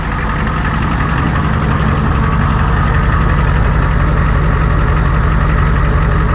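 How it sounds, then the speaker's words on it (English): A Ford F350 truck with a straight-piped exhaust and no muffler idles loud and close: a steady, throaty rumble with constant rough pulsing and nothing else over it. "Now that's totally straight piped. No muffler."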